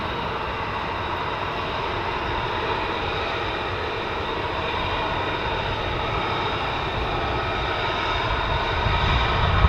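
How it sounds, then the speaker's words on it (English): F-15 fighter jets and Reaper drones taxiing at RAF Lakenheath, a continuous loud engine roar and whine that holds steady and swells slightly at the end, heard outdoors from close range without speech. "More F-15s taxiing down. And you've got your Reapers taxiing out as well."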